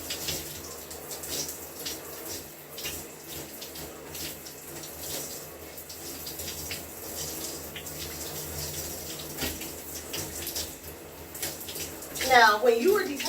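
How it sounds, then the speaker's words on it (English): Tap water runs steadily while a section of hair is rinsed during a wash day routine, a soft continuous flow with a brief louder splash near the end. "And I'm just going to rinse that section."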